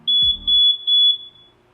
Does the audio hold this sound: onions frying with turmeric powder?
no